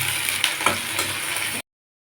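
Two chillies crackle and sizzle in hot oil in a pan over fried potatoes, a steady close frying hiss with a few sharper pops, cutting off abruptly after about a second and a half.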